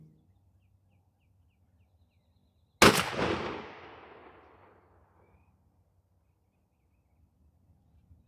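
A single loud 12-gauge Remington 870 shotgun blast firing a 3-inch Hevi-Shot bismuth turkey load through a Hevi-Shot choke, a sharp crack followed by a long fading rumble, with quiet before and after.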